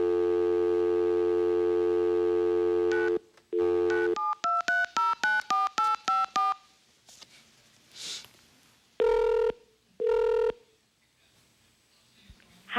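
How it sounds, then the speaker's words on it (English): A telephone keypad dials a number: a steady dial tone, then a quick run of about a dozen short touch-tone beeps, followed by faint noise and two longer ringing tones, alone and clear without speech. "Let me dial the number again."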